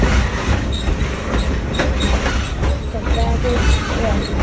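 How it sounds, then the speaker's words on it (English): Rumbling steam train of the Essex Steam Train valley railroad in Essex, Connecticut passing close by, with steady wheel clatter and occasional squeals over a dense low roar; faint voices mixed in. "Essex steam train, that's what it says."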